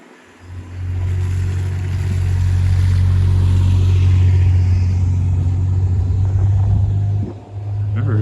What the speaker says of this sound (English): There's a vehicle up here.